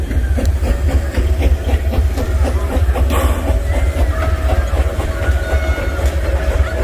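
A roller coaster train, Aquaman Power Wave at Six Flags Over Texas, rumbles steadily past with a low heavy roar and rhythmic clacking over the track, loud and continuous throughout.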